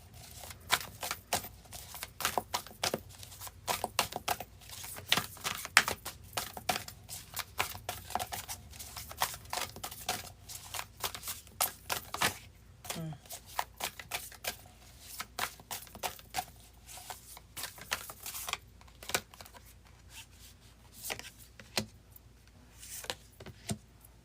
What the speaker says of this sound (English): Quick shuffle for Taurus.